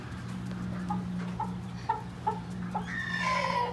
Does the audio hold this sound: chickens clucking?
yes